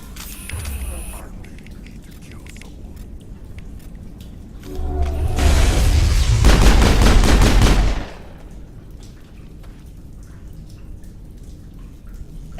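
A burst of rapid automatic gunfire rattles in Mass Effect 1 and lasts about three seconds. It is loud and dense, and comes between quieter stretches of ambient game sound and some voice.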